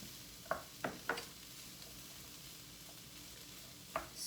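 Onion and broccoli stir-fry in a pan, giving a soft, steady sizzle with a few quick scraping stirs near the start and one more near the end, all quiet.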